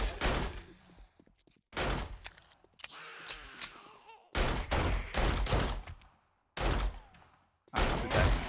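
Sharp, loud pistol shots ring out in a video game, coming in separate volleys with short silent gaps between them, each shot followed by a brief echoing tail.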